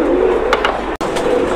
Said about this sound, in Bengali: দর্শক এই যে দেখতে পাচ্ছেন এখানে এক পেয়ার কবুতর, এটা মূলত হচ্ছে লাহোরি কবুতর।